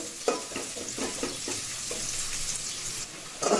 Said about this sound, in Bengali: এবার পেঁয়াজগুলো একটু হালকা ব্রাউন কালার করে দেব।